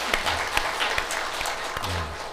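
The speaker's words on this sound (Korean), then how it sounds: "자, 박수로 격려합시다." Congregation applauding to encourage an elder's family during a church elder ordination and retirement thanksgiving service, a brief steady burst of many hands clapping with a few sharper claps standing out.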